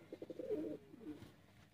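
Teddy pigeons cooing close by, a soft throaty run of coos followed by a shorter second phrase, with no talking.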